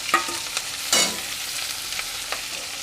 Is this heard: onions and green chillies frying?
yes